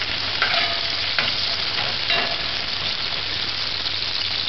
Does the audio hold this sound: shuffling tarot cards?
no